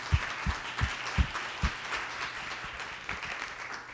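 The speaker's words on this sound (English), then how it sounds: "So a round of applause." Audience applause after a talk on children's health, a moderate crowd patter with a few heavy, close, low thumps from one nearby clapper early on, then tapering slightly.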